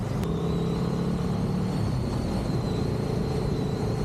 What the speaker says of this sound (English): The motor really does sound beautiful, and it pushes you on quite nicely.